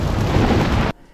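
A nuclear bomb explosion sound effect: a loud, dense, rumbling roar sustained for under a second, then cut off abruptly into near silence.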